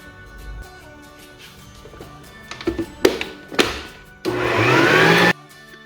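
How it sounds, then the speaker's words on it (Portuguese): Powerful stand mixer at medium speed whipping 500 ml of Chantimix whipped cream, preceded by a few knocks and thumps, then a steady loud whirring burst for about a second before stopping. "Eu bato aqui na velocidade média. A minha batedeira ela é muito potente"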